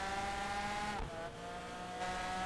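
Race cars in Project Gotham Racing 4 accelerating hard in a straight drag race, a loud steady engine whine that dips briefly at a gear change then climbs again.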